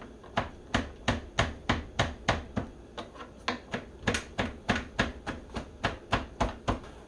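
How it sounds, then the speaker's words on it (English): A knife chops piled fresh herb leaves stripped from the stem on a cutting board while venison and quinoa stuffed bell peppers are being made. About twenty crisp, evenly spaced taps come up close at a steady rhythm. "Keep pushing it up on a pile and it will chop easier."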